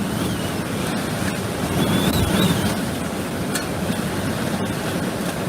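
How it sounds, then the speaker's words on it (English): Hurricane Ian's landfall brings a sustained roar of wind that swells into a stronger gust midway, a dense, rushing storm noise with faint rattles and debris clatter. "Biggest gust yet, right there."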